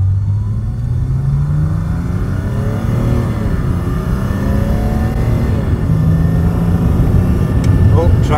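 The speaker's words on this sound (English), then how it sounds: "You can hear the volume of this 3-inch stainless exhaust, which is capable of flowing 600 horsepower." A Mercedes W210 E300 turbodiesel with a 3-inch stainless exhaust accelerates hard, a deep steady drone climbing through the gears, heard from inside the car with a voice speaking over the engine.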